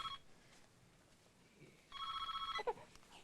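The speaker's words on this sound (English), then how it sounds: "I'll get the phone." A telephone rings indoors, a short electronic trill near the start, then a longer burst of rapid bell-like ringing after a pause, moderately close in an otherwise quiet room.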